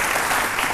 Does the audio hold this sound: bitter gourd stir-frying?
no